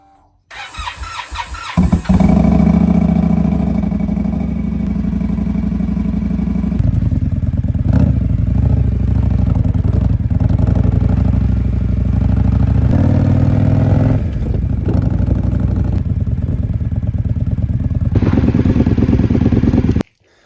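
A motorbike belonging to a go-kart builder's household, low on fresh gas, cranks and catches, then idles and revs in a loud, continuous rumble with clattering as it is moved, cutting off abruptly at the end.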